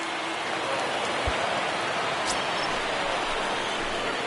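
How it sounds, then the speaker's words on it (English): Steady rain falls over a ballpark in MLB The Show, the baseball video game, as an even, dense hiss that holds at the same level throughout with no talking. "There is rain in the area"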